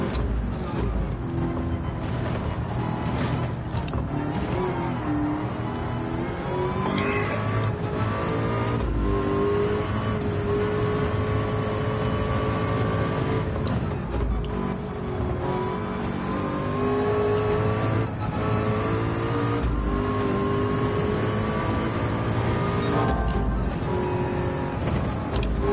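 A race car laps Le Mans in a VR racing game, its engine howling continuously at high revs with brief dips for gear changes, loud and steady throughout with no voices.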